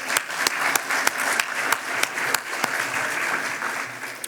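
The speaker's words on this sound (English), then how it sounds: "Let's give a huge round of applause to our great panelist and our moderator" Audience applause for a panel and its moderator at a young professionals' leadership masterclass: steady, dense clapping from a room full of people, with a few sharp, louder claps standing out near the front throughout.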